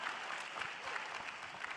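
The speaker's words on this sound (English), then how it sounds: "We'll get a round of applause for that one." An audience at an LCS Spring Split Finals esports event claps steadily for almost two seconds, a thick, continuous wash of applause with no voices over it.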